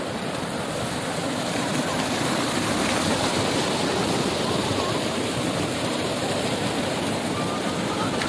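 Steady, dense roar of falling water fills the whole stretch, loud and unbroken, from a nearby waterfall at Sapteshwar Mahadev Temple, Sabarkantha, Gujarat.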